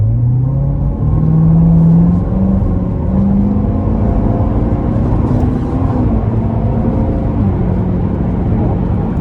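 A 2017 Chevrolet Corvette Stingray Z51 engine pulls under throttle from inside the cabin, a loud, deep rising drone that climbs in pitch and then holds a steady rumble.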